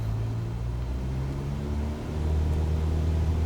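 A small airplane's piston engine roars steadily at full throttle during the takeoff roll on an IFR departure from San Luis Obispo, a continuous deep drone heard from inside the cabin.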